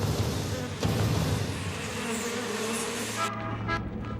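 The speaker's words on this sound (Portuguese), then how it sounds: "São os enormes enxames de gafanhotos que circulam sobre a cidade" Enormous swarms of locusts circling over a city fill the air with a dense, continuous droning buzz that stays loud and steady before thinning out near the end.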